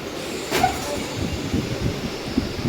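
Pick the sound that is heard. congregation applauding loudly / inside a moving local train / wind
inside a moving local train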